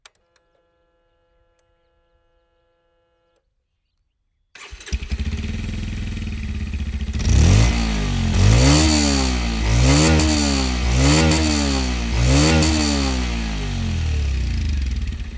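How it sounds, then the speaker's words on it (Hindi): After a few seconds of near silence, a 2026 Bajaj Pulsar 150 motorcycle starts up close by, idles, then revs repeatedly in rising and falling sweeps before settling back to a steady idle. "आपको इस मोटरसाइकिल का एग्जॉस्ट नोट सुनाता हूँ and then will ride it."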